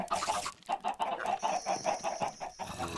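Blocky Minecraft chickens cluck again and again in quick, uneven bursts, close and fairly loud, with a faint high whine running under the middle of the squawking.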